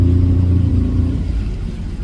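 The engine of a supercharged 230-horsepower Sea-Doo Switch jet boat runs under throttle with a deep, loud, continuous rumble that eases slightly toward the end.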